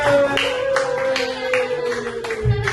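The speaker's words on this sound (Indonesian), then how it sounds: "Pak, tepuk tangan." A classroom of students clapping hands together, a loud run of rhythmic claps lasting a few seconds with a steady tone humming beneath, close and without talking.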